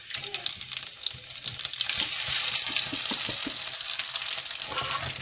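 Cumin, mustard seeds, fenugreek, dried red chilli and asafoetida sizzle in hot oil as a tempering for kadhi, a steady close crackle with scattered pops and a stirring scrape, with no talk over it.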